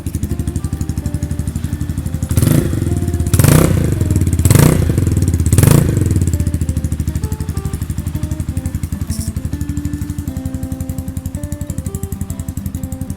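A 2019 GPX Legend 150 motorcycle idles with a steady close engine chug, punctuated by four sharp throttle blips in quick succession before settling back to idle.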